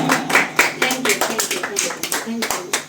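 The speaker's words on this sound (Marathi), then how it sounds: "टाळ्यांचा कडकडाट" Applause from an audience at a music performance in Vajreshwari Temple, Akloli, rising and falling in uneven bursts over steady crowd noise, with voices mixed in throughout.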